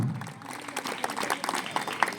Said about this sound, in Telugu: గట్టిగా చప్పట్లతో వారికి కూడా ఆహ్వానం